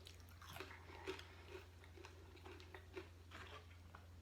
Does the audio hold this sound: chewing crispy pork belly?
yes